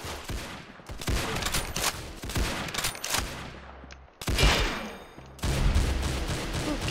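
Rapid bursts of automatic gunfire from the Roblox shooter game Arsenal, loud and dense, firing in long stretches broken by brief pauses.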